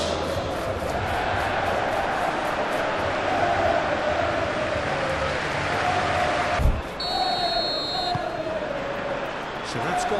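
A capacity football crowd at a Premier League match between Manchester City and Leeds United, a broad continuous roar of the stadium with a commentator talking over it and a sharp thump partway through.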